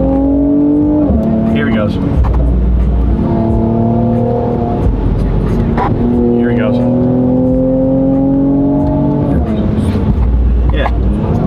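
Car on a back road with balding tires, taken through 90-degree turns at about 60 mph, its engine droning loudly and rising in repeated acceleration sweeps that drop as gears shift, with people talking over it.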